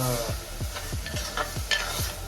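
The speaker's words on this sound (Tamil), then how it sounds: "நம்ம வெங்காயம் வதங்குறதையும் பார்த்துக்கலாம்" Onions sautéing in a pan for pepper chicken, a steady sizzle with repeated scraping strokes of a spatula at a regular pace, close and continuous, with no talk.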